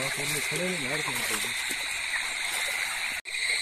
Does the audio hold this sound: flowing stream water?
yes